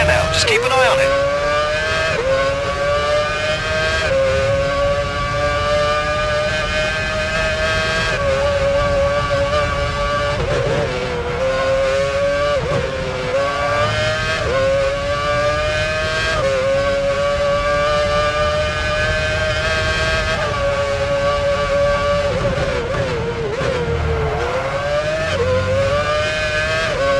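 Formula One race car engines from Formula One Championship Edition on PS3 at Melbourne, driven in a Williams: a loud, continuous high-pitched engine whine rising and dropping through gear changes, with commentary speaking over it.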